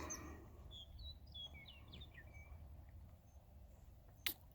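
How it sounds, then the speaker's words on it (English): Faint, scattered red-winged blackbird calls drift in from a distance over a steady outdoor background hum in an upland area, with a brief sharp click near the end. "I hear some red-winged blackbirds calling in the distance"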